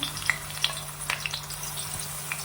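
Eggplant frying in hot oil: oil sizzles and crackles steadily with scattered sharp pops, a close, continuous frying sound with no voices.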